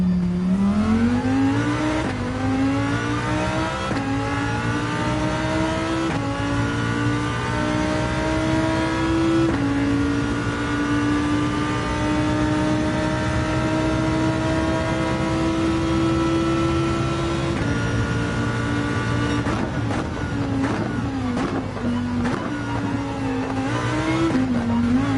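Race car engine in Gran Turismo 7 holding a steady high drone through a long pull, with gear changes and brief revving dips near the start and end, loud and continuous with no talk.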